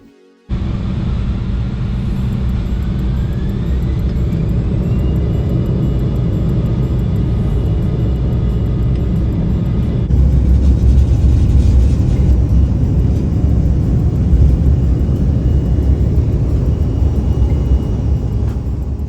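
A KLM Boeing 787-10 Dreamliner in flight on approach to Teesside, heard from the cabin as a loud, constant roar of engine and airflow noise that swells slightly partway through and holds steady without any talking.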